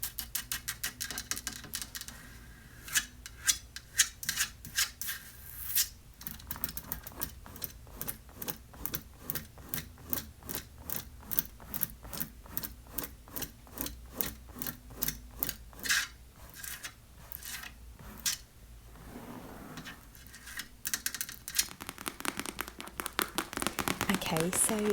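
Quick, rhythmic scratching and tapping on the metal-braced legs under a folding chair, a fast run of crisp ticks with short breaks, close and intimate.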